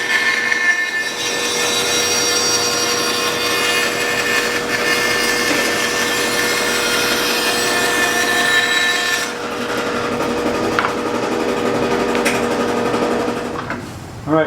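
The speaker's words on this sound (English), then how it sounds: "turn on the saw. And we're going to do a nice cut right along the fence." A band saw with a Kreg precision fence runs a long, steady cut through wood, its whining blade and motor hum continuous and close, then a brief change in tone as the cut finishes and the saw winds down.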